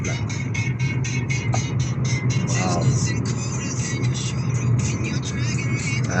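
A car drives along a road at a fairly quick pace, its steady engine hum and tyre rumble filling the cabin close up, with voices occasionally talking over the noise.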